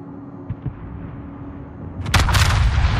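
The Yamato battleship in World of Warships fires its main guns. After a quiet rumble with a couple of faint thuds, a loud broadside erupts near the end and rolls on as a heavy booming blast.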